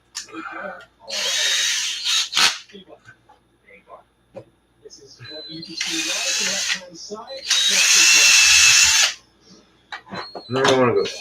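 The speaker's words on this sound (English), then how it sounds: "I'm just going to use a drill bit and then just kind of side guide it" Handheld drill with a bit boring into an RC car part, several whining bursts of varying length, close and loud, with a person talking between runs.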